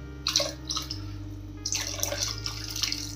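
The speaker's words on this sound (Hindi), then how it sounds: "ये देखिए कढ़ाई में एक बार और डाल दिया हमने 1/2 कप पानी" Half a cup of water is poured into simmering kadhi in a wok, giving two bursts of splashing and trickling over a low steady hum.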